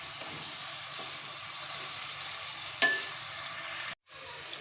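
About a cup of onions frying in a pan toward light golden brown, a steady dense hiss of sizzling oil with a faint stir or two, cut off abruptly near the end before resuming briefly.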